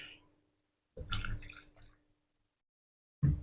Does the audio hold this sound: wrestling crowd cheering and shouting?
no